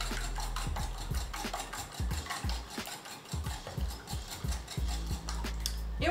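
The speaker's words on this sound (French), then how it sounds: "On mélange bien." Eggs beaten in a bowl with a utensil, a rapid run of clinking, tapping strokes with uneven rhythm, close and steady over a low hum, with no talk.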